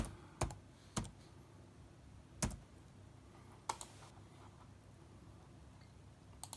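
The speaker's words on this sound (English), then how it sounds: "So let's type in Lachlan." Scattered, faint clicks of keys on a computer keyboard in a quiet room, a few isolated taps spaced out rather than continuous typing.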